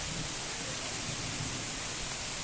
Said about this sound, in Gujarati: વરસાદ બહુ આવે છે અત્યારે